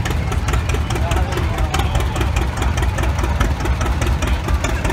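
A 1953 John Deere Model 50 tractor engine idling at a farm show, a steady low chugging putt-putt rumble, close and continuous, with people talking nearby.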